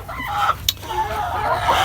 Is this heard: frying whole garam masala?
no